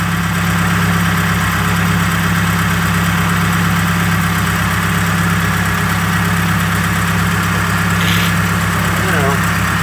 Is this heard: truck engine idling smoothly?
yes